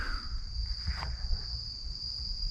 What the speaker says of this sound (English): you hear all those bugs and crickets and stuff?